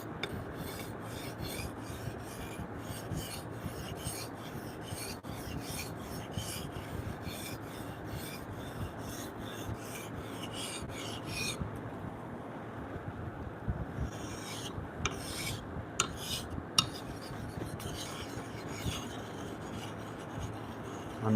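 Wood being sanded by hand on a curved rail in a woodworking shop: a steady, continuous raspy rubbing that carries on without pause, with a few brief lighter scrapes and knocks toward the end and no talking.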